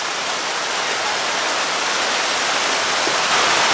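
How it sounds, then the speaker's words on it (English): Creek water rushes steadily while being crossed, a loud, even broadband flow with no breaks and no voices. "so we're crossing the creek"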